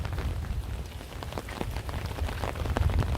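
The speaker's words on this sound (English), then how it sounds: "Horrible rainy day" Steady rain patters on the ground outdoors on a dreary day near a blocked-off track, a dense continuous wash of drops with low rumble, close and fairly loud throughout.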